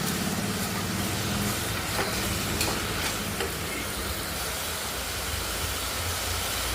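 Steady sizzling of tomatoes frying in a pan, with occasional scraping and stirring clinks; continuous and fairly close, no voices.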